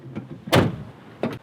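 Rear doors of a camper van are unlatched and swung open: a soft click, then a loud close clunk with rattle, followed by another latch click, with no talking.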